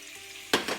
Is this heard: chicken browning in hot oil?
yes